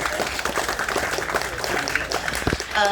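Audience applause at a Tamil speech event, a short burst of crowd clapping filling the moment at moderate level, fairly dense and continuous.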